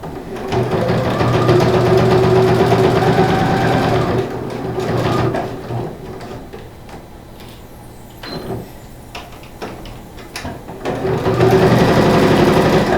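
A domestic sewing machine stitches fabric in loud, fast bursts, running hard for several seconds, pausing amid handling noises and small clicks, then starting up again near the end.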